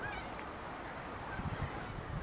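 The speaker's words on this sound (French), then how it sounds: "Et nous voilà à Saint-Valery avec le vol des mouettes." Seagulls at Saint-Valery on the Bay of Somme at low tide in the evening, calling in a dense, continuous outdoor wash with faint honking cries over steady background noise.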